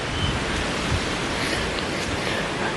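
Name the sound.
flowing water outdoors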